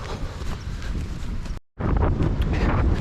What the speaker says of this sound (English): You might struggle to hear me a bit because this wind's picked up here at Ogmore.